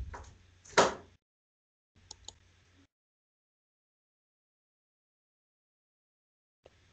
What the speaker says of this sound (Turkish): şu kapıyı kapatır mısın?